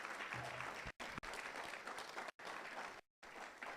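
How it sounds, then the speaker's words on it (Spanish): A church congregation at a Spanish-language night vigil breaks into loud, sustained applause, dense clapping that fills the room with brief dips, steady and close for several seconds. "dele ese fuerte aplauso al Señor"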